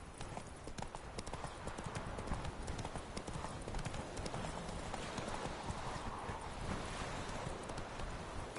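Hooves of the horse Roach clip-clop in a steady walking rhythm in the Witcher video game, close and continuous over a wind-like hiss.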